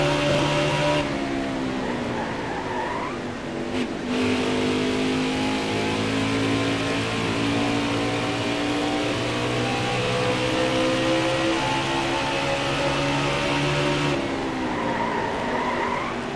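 Race car engines in the NASCAR Heat 4 video game, a sustained high-pitched roar with rising and falling revs as cars shift, loud and continuous throughout, with brief dips between gear changes.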